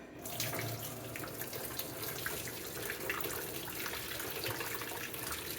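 Water poured from a pot through a handheld strainer at a kitchen sink while draining noodles for chile crisp sesame noodles, a steady close splashing gush running the whole time with no talk.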